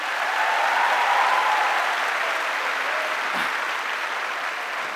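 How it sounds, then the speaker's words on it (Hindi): An audience at a success day event applauds loudly, a dense, sustained wash of clapping from many hands that stays strong and steady throughout with no talk over it. "उसके बाद प्लीज जोरदार ताली हो जाए मेरी फैमिली के लिए।"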